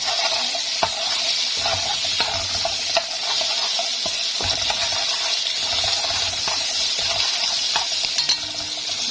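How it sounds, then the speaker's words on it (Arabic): Tomato paste sizzles in hot oil with browned onion, with garlic and coriander, for Egyptian koshari: a steady close hiss of frying runs throughout, broken by a few clicks and scrapes of stirring. "طبعا اصلا الزيت متحمر فيه البصل، هننزل بمعلقه صلصه"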